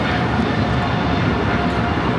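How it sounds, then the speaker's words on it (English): American Airlines Boeing 777-300ER departing Los Angeles LAX bound for London Heathrow, a steady loud broadband jet roar filling the whole stretch with no break, heard from an airport spotting position. "This is American Airlines 136 taking off to London Heathrow on the 777-300ER"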